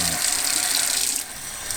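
Tap water runs steadily into a plastic dessert container, a continuous close splashing hiss that softens slightly near the end as the level rises.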